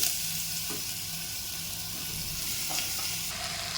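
Chopped bottle gourd fries in oil with cumin tempering inside a pressure cooker, giving a continuous soft hiss and crackle with a few faint clinks and no talking.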